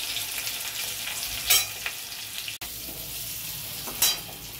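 Potatoes frying in a pan with salt and turmeric for a Bengali banana-flower dish: a steady close sizzle, with two brief louder bursts as the pieces are stirred.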